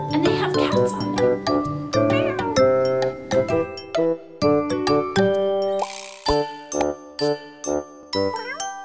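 Repeated cat meows ring out in short, bright bursts with pauses between them, accompanied by jingling, chime-like tones. The meows may be voiced by a person imitating a cat.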